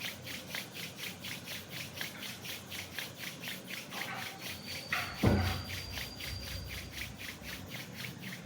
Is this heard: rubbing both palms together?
yes